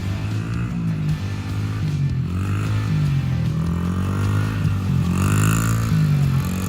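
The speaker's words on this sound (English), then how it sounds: "here's a video of my son the first time he jumped on a motorcycle, a little tiny dirt bike" A little tiny dirt bike motorcycle ridden by a child beginner, its small engine droning steadily and close with slight rises and falls in pitch throughout, no talking over it.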